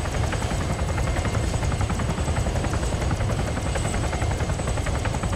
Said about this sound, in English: Fucking helicopter again.